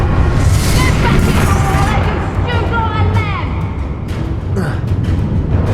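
A Bombarda spell explodes in Hogwarts Legacy during a final boss fight, a loud booming blast amid dense battle noise and shouting voices, followed by sweeping magical whooshes.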